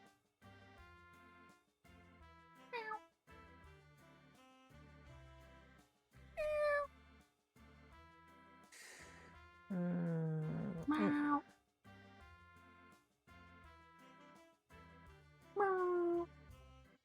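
Cartoonish cat meows from the Travellin Cats video game play one at a time over looping bouncy background music, each call short and bright, with a voice briefly speaking between them.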